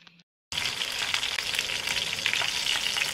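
Dynamite chili rolls, chilies wrapped and fried in a pan, sizzle loudly and steadily in hot oil after a brief quiet start, a dense continuous crackle with no talking.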